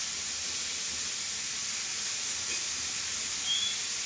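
Mixed vegetables such as brinjal, potato, stalks and greens fry in a pan for a drumstick-flower curry, giving a steady, even sizzling hiss throughout with no talk.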